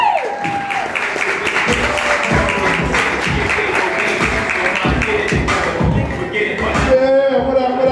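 Audience at a Bronx comedy show, Grown Folk Comedy at The Point, applauds and cheers comedian Kevin Mason; dense, loud clapping mixed with crowd voices runs steadily for about eight seconds.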